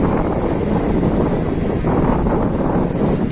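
Strong wind buffets the microphone outdoors as a loud, constant, rumbling roar that fills the whole stretch with no voices.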